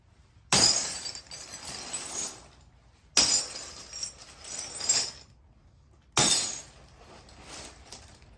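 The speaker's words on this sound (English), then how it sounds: "we usually do it above the actual crash box, and then let it rip" A crash box sound-effect prop is shaken and dropped three times, each burst a loud clattering crash of breaking glass and shards. Each crash starts sharply, then jangles and rattles as it tails off.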